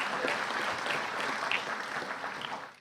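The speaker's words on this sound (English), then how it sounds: "Give Devarsh a round of applause" A police promotion ceremony audience applauds Devarsh, with steady, dense clapping from a crowd filling the room before fading out at the end.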